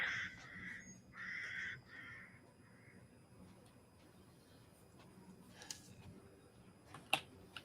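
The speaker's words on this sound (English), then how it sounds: "Oh, it's the birds. Crows?" Several crows caw in a video game, a few loud harsh calls clustered at the start over a quiet ambient backdrop, followed by scattered faint clicks and taps.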